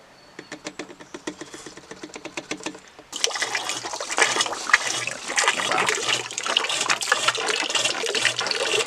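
Motor oil, four quarts plus a quart of Lucas additive, poured into the engine of a 1984 Chevy Cavalier wagon: a steady glugging liquid pour, close and fairly loud, heavier after a few seconds, with no talking.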